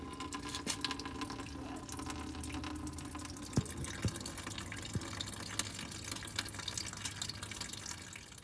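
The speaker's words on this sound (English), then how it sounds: "I'm going to just record me draining out the Coke from the radiator" Coca-Cola trickles and drips steadily into a container as it drains from a 1971 Camaro radiator, faint and continuous, with a few sharper drops standing out against the low running flow.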